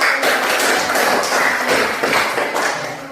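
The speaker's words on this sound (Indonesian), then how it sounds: "kita memberikan aplaus untuk kelompok 1" Classroom applause for a student group after a presentation on the health effects of cigarette smoke, a dense, steady patter of many hands clapping together at close range for about three seconds with no talk over it.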